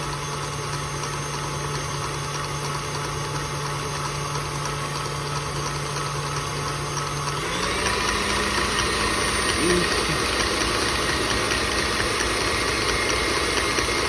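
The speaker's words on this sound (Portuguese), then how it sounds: "a gente vai bater um pouquinho mais para ficar bem fofinho esse ovo depois" An electric stand mixer beats eggs for an almond cake, giving a steady, close motor whir with a rattling drone. Partway through, the pitch shifts as the mixer speed changes, and a voice may be faintly heard underneath.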